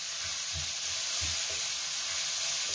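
Pork and lettuce stir-frying in a pan for a Korean rice bowl dish, with a steady close sizzle and soft scraping stirs under it.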